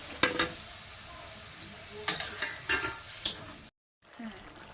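Eggs dropped into a pan of frying masala, giving a steady sizzle with a few sharp stirring or clattering hits, then a brief drop to silence before the frying resumes.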